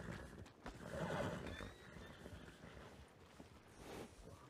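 A horse in the Red Dead Redemption 2 video game answers a call with a loud neigh and whinny, followed by soft hoof clip-clops, heard fairly faint in the background.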